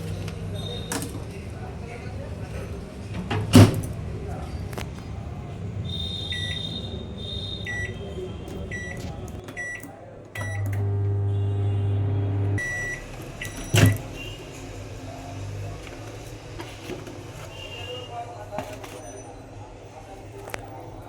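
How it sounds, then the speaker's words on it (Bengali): A microwave oven hums while heating food in a home kitchen, with a steady low drone that shifts partway through, plus a couple of sharp knocks and some creaks close by and a person talking. "এই দেখুন এবার মাইক্রোওভেনে গরম করে নিচ্ছি।"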